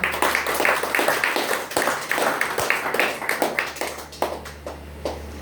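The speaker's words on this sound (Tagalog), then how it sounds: "Di palakpak ng malakas ang kamay." Church congregation at a Sunday service clapping hands loudly, a dense run of sharp claps in a fast, slightly uneven rhythm that thins out toward the end, close and unaccompanied by talk.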